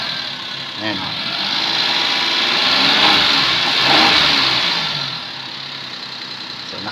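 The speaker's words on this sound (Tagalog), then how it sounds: "At habang umiinit ang makina, pababa ng pababa yung idle." A small Suzuki Alto engine idles close by with a steady, buzzing hum that swells slightly in the middle and settles back down as it warms.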